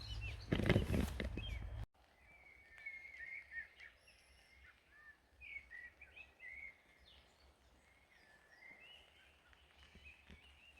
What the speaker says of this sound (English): listen to the birds sing their evening chorus